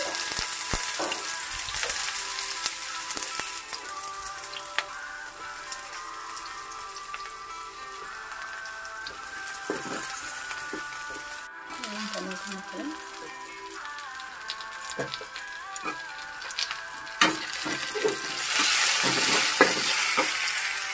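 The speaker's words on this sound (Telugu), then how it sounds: "ముందుగా నేను ఉల్లిపాయ ముక్కలు చిన్నగా అన్నమాట కదా వేగనిస్తానండి" Chopped onion pieces fry in oil with curry leaves in a pan, giving a steady close crackling sizzle with occasional stirring clatter. A voice speaks intermittently over it.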